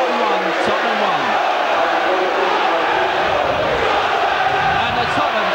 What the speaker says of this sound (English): And the Tottenham crowd certainly can be heard now.